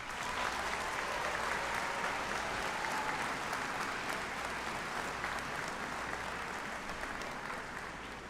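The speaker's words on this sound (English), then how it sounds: "Please take a moment to thank whomever may be with you at this time with a round of applause." A large crowd at a high school graduation ceremony applauds parents and family, giving steady, even clapping that fills a big hall throughout without letting up.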